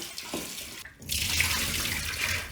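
A kitchen tap runs while pumpkin is being washed: a short quiet stretch with small handling noises, then a strong, steady hiss of flowing water that continues to the end.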